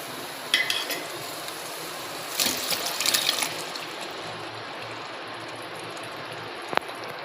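Water left from boiling chicken pouring into a pan of fried masala and chicken for curry, a soft wet splash with a burst of clinks and stirring midway and a sharp tap near the end.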